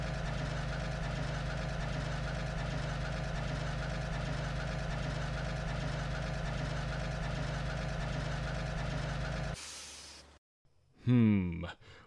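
A deep diesel engine rumbles steadily and close for several seconds, then cuts off abruptly, followed by a brief stretch of talking.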